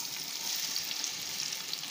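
Sliced onions fry in hot oil for chicken biryani, giving a brief, even sizzle heard close by at low volume with slight stirring texture.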